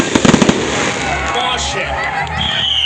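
A Youth Day fireworks salute goes off outdoors, a quick cluster of sharp bursts followed by rumbling booms and crackle, with a crowd murmuring and voices speaking nearby.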